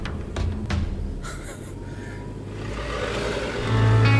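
A 2016 Ford Everest SUV drives off-road over uneven ground, its engine a low steady rumble inside the cabin that swells louder near the end, with a few faint knocks.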